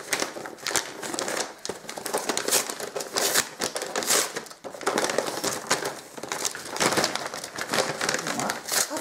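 A kraft paper envelope is handled and opened up close, with bursts of crinkling and rustling paper and sharp crackles at an uneven pace, moderately loud and with no speech.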